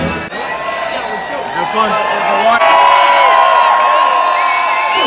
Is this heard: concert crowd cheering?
yes